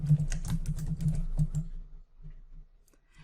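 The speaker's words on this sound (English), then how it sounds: "And as I start typing" Quick, uneven clicks of keys on a computer keyboard, loud and close, then a lull and a few scattered keystrokes; nobody speaks.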